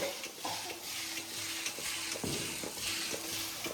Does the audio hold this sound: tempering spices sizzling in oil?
yes